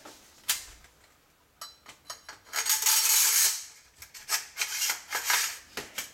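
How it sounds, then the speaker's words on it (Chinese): Metal parts of a Beretta Xtrema 2 A391 slug shotgun scrape and click as the bolt is slid into place: a series of close, dry rubbing and clicking sounds with a longer grinding slide in the middle, no talking. "就是先放枪机"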